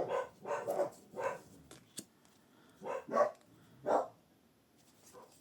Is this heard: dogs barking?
yes